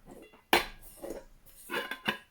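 Metal camping pots from a Trangia 27 cook set clank and scrape together as they are nested, with several ringing knocks and a sliding rasp at close range.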